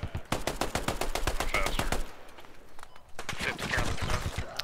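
Heavy .50 cal machine gun fire in a war video game, long rapid bursts of loud close shots with a short gap between two strings.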